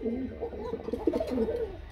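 Racer pigeons at a market coo in soft, low, repeated throaty phrases, close by, with faint background voices.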